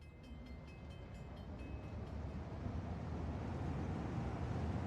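A train rolls past in the city-building game Cities Skylines 2, a steady rumble that swells slightly over several seconds, with faint tonal squeals early on and no voices.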